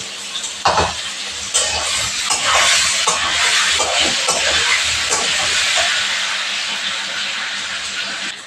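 Potatoes frying in a pan make a loud, continuous hissing sizzle with a sharp scrape near the start and stirring noises throughout, and no one speaks.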